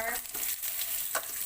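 Onion frying in a pan for a Goan fish curry, giving a continuous close sizzle with a couple of brief stirring scrapes.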